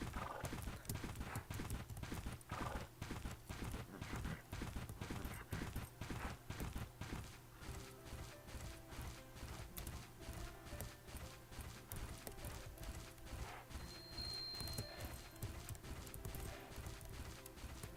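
Horse hooves galloping in the Bella Sara video game, a fast, even clip-clop rhythm that runs throughout with a brief neigh, steady and close.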